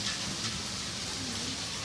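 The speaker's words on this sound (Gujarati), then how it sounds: "હજુ કન્ટિન્યુ વરસાદ ચાલુ છે." Steady rain falls continuously, a soft even hiss of drops on surfaces throughout, with no voices.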